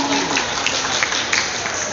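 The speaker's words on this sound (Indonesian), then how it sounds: "tepuk tangan dulu dong" Audience at a campus anti-drug seminar clapping together, a short steady burst of applause filling the room, with a voice faintly heard beneath it.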